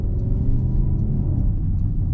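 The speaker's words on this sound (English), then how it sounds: "when you have an exhaust note that sounds like this" A deep, throaty 2021 Porsche Cayenne GTS engine rumble fills the brief moment, loud and close, with a low burbling exhaust note and no talking.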